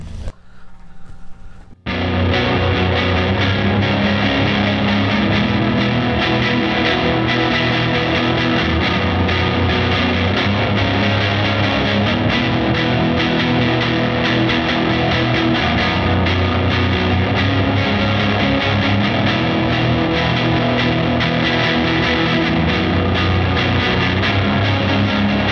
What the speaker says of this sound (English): Here's a second reverb setting.